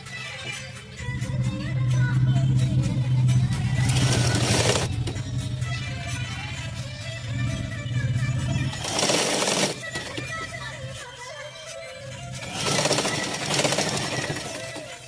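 A sewing machine stitches a sleeve, whirring in a steady low buzz for several seconds before easing off. Sharp bursts of cloth handling and rustling come in between runs, loud and close.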